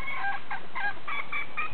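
A bantam chicken clucks in short, repeated bursts, a run of about six quick clucks at a fairly even pace, close and clear with no talking.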